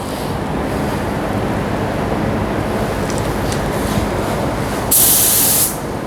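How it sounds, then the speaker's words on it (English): A Sata spray gun hisses steadily while spraying finish onto a cabinet face frame, a close, loud airy rush that swells briefly louder near the end, with no voices. "So I'm going to spray it that way and then spray it straight so we get a good coat on that."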